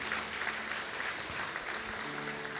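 A church congregation at a Christian conference claps loudly together, forming a dense, even wash of applause that carries through the whole short moment.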